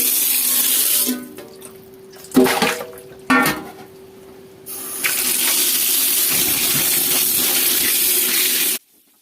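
Water runs steadily from a tap into a sink as cucumbers are washed in plenty of water, with clattering and splashing handling noises partway through before the stream cuts off at the end.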